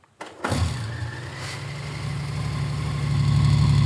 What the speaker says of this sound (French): on peut entendre le bruit du moteur